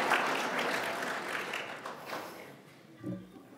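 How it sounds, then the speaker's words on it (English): A church congregation at an Easter worship service claps together, a lively patter that fades away over a few seconds, followed by brief murmuring voices near the end. "we're clapping for the suit"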